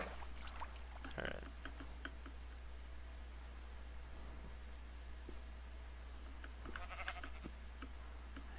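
Sheep bleating in the video game Minecraft, two short bleats around the one- and seven-second marks over a steady low hum and faint rustling.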